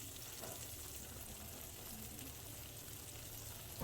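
Onions lightly browning in oil at the start of a meat curry with soaked lentils, giving a steady, dense sizzle and crackle that holds evenly throughout, close and fairly quiet, with no voices.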